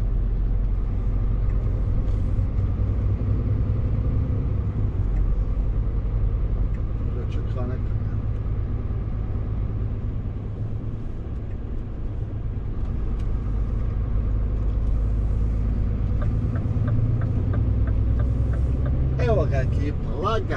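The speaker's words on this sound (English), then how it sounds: "Lagan Gaščić ide gas na maks" Car cruising on a road at full throttle, a steady loud low engine drone and tyre rumble running throughout with little change, a slight dip midway, and faint clicks near the end.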